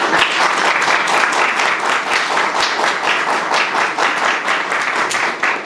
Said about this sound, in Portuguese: Peço a todos os presentes uma calorosa salva de palmas para receber.